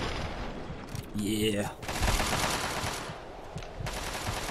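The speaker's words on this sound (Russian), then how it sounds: "У меня есть снайперка. Да-да-да, два выстрела." Sniper rifle gunshots in the Fallout 3 video game ring out as two sharp, loud reports over steady game noise, with someone speaking briefly nearby.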